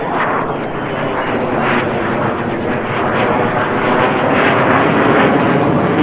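A loud, broad roar of a Blue Angels military jet fills the whole stretch, steady and close, slowly swelling slightly as it passes overhead with no talking.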